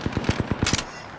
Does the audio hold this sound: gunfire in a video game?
yes